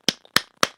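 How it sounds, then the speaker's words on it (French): Three sharp, evenly spaced hand claps, close and crisp with short decay and silence between them. "offrons-leur une belle main d'applaudissement."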